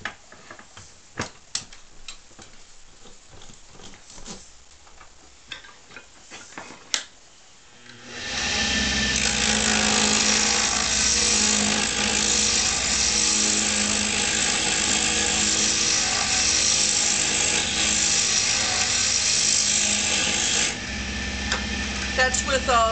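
A wooden conical pipe stem spun on a lathe and cut with a round bowl gouge: a steady, loud broadband cutting roar begins abruptly after a few quiet ticks and holds for about twelve seconds before easing.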